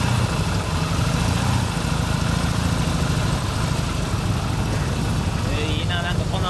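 A 1978 Yamaha TX650 motorcycle engine, rigidly mounted, idles steadily with a low, even rumble throughout, close to the listener, with faint chatter toward the end.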